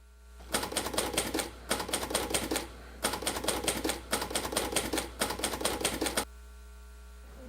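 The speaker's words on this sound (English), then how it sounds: "Dr. Richard Polt has a display of typewriters in the library for all to see" Typewriter from Dr. Richard Polt's typewriter display in the library at Xavier, typed up close in five rapid bursts of clacking keystrokes separated by short pauses, with no voices.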